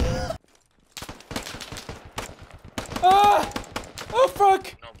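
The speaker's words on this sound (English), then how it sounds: "I'm under fire!" Rapid bursts of automatic gunfire in the military shooter game Squad, sharp repeated cracks in quick clusters with short pauses, fairly close, with a voice shouting over parts of it.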